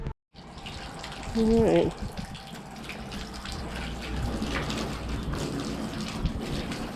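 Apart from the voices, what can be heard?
water running from a tap filling a stock tank pool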